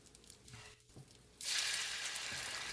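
Potato and perilla leaf pancake batter hits hot oil in a pan with a sudden loud sizzle after a quiet stretch, then keeps frying in a steady crackling hiss.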